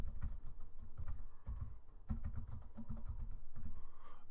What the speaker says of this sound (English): And then you just type in Kitchen Remodel Costs